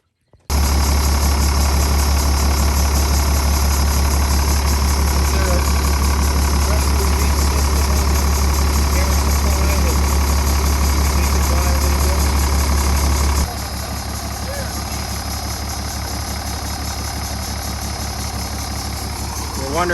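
A bus engine idles steadily and loudly with a constant low drone and an odd mechanical noise mixed in; the level drops slightly partway through but the running engine continues to the end.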